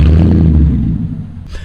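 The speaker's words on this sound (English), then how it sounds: "just barely tap the gas a little bit" A lifted 2004 Porsche Cayenne S with 150k miles gets a light tap of the throttle, giving a loud, close, deep rumbling rev that tapers off within about a second.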